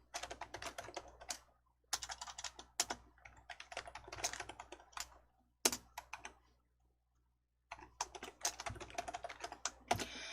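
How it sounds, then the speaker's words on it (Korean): Computer keyboard typing during a word-processor lesson, with quick bursts of close key clicks separated by brief pauses and a few isolated single key presses like Enter, and no voice. "엔터 치셔서 줄 한 줄 추가해 주시면 됩니다."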